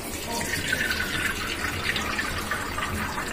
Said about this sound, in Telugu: ఇప్పుడు మనం ఈ పాస్తాలోకి కోల్డ్ వాటర్ వేసేసుకుందాము.